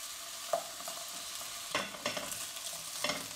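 Pieces of vegetable kebab being set into a frying pan one by one, a steady faint sizzle broken by soft clacks and taps as each piece goes down, with no talk.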